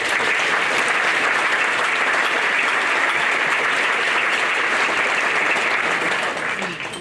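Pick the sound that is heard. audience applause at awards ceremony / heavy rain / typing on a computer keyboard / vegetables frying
audience applause at awards ceremony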